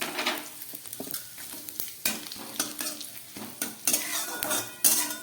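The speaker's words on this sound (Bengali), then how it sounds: "এবার এই তেলের মধ্যে আমি একটু গ্রেট করা আদা দিয়ে দিচ্ছি" Grated ginger, fennel seeds and dry red chilli frying in oil while a spoon stirs and scrapes the pan, giving a quiet sizzle broken by repeated clinks and scrapes.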